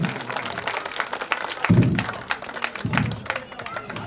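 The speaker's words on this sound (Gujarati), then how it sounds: "તાળીઓ તમે બંધ ન કરો યાર." An audience claps at a temple idol consecration festival during donation announcements. Bursts of clapping rise and fall with crowd noise, and a voice talks over them.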